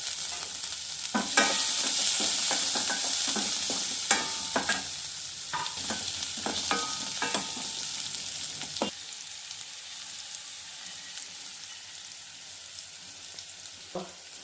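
Onions and garlic cloves frying in a pan with cumin for a bhindi curry, a loud steady sizzle with a run of sharp spatula scrapes and taps that thins out into a quieter hiss toward the end.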